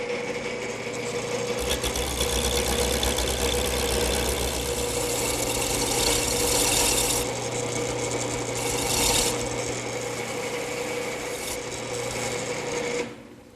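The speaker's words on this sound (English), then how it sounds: "To do that, I'll use a gouge." A gouge cuts a spinning wooden blank on a lathe, shaping it into a column: a steady loud motor drone with continuous rasping, scraping tool contact rising and falling throughout, stopping near the end.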